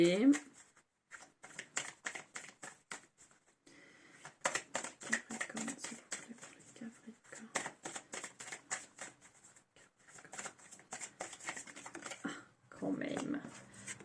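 Tarot cards being shuffled, a long run of quick riffling and flicking bursts in uneven clusters, close and fairly faint, with a voice speaking over parts of it.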